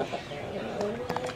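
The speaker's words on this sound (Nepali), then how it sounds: "म एकछिन मेरो कुखुराहरू म देखाउँछु" Backyard chickens cluck and murmur close by in short, soft bursts, quiet overall with a few brief sharper calls near the end.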